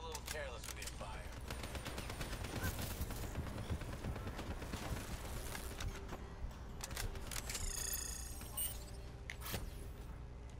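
Rapid automatic gunfire from the Black Ops 3 campaign, dense bursts of shots rattling almost continuously across the clip under voices and battle chatter, with a few sharper single cracks near the end.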